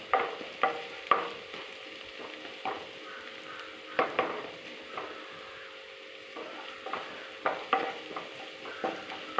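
Green chillies and curry leaves fry in a pan for an eggplant curry, with a faint sizzle beneath a series of irregular spatula scrapes and knocks against the pan, and no voices.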